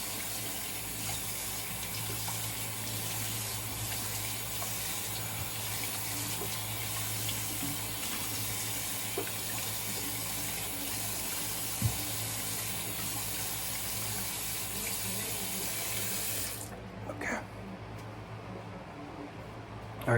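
Tap water runs steadily into a sink as someone rinses off after a wet shave, a constant gushing stream that stops abruptly near the end.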